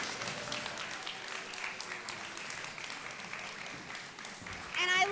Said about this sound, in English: please give Yoka a round of applause